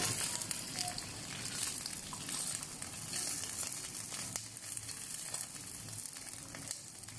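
Steady sizzling and bubbling from garlic boiling in a pan on the stove for a sauce, close and continuous, with a few light clicks.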